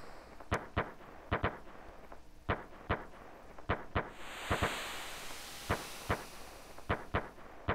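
Fireworks go off at a festival in the SNES game Chrono Trigger: a long run of sharp, crackling bangs, roughly fifteen irregularly spaced, with a brief hissing burst in the middle.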